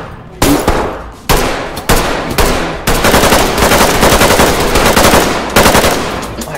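Rapid automatic gunfire from a video game firefight, loud and sustained, with several bursts that start abruptly and then blur into continuous shooting.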